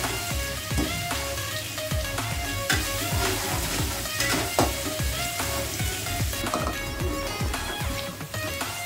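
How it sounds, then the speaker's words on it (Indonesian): Ground spice paste sautés in a pan for a vegetable capcay, a steady broadband sizzle with repeated spatula scrapes and stirring clatter throughout, fairly close and even in level, no voices. "Masukkan bumbu yang sudah dihaluskan ya. Kita tumis sampai harum."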